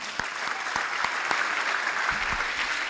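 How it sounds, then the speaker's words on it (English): An audience at a session, hands raised overhead, claps in a dense sustained burst, near and fairly loud, with a few louder individual claps standing out. "we're going to give you that clap again"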